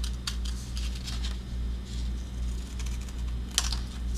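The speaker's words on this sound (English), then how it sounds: "And then you just trim around this piece" Scissors trimming around a paper dress bag template, a few quick crisp snips close by, scattered irregularly over a low steady hum.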